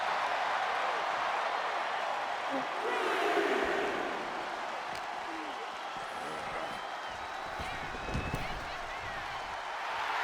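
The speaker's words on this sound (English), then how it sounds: "Look at Sheamus getting the crowd involved." A wrestling arena crowd in the WWE 2K25 video game roars steadily throughout, a dense wash of cheering with some clapping swelling briefly, heard at a distance.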